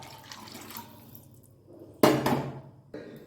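Water trickles softly as a bowl is rinsed, then a louder splash and gush as the rinse water is poured into buttermilk curry, followed by a brief final pour.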